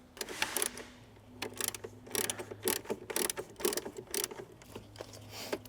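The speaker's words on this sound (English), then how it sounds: "this 10mm bolt. So I'm going to go ahead and take that out now." A hand ratchet works a 10mm ground bolt loose on a Toyota Tacoma pickup, making rapid, close, clicking bursts in uneven runs with short pauses and no talking.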